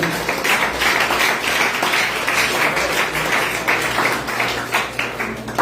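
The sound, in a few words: audience applause in church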